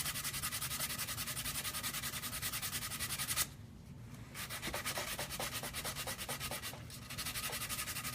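Steady, rhythmic strokes of hand sanding on a Colonel Stars and Stripes prop, rubbing loud and close, with a short break just before the midpoint and another brief dip later before the strokes resume.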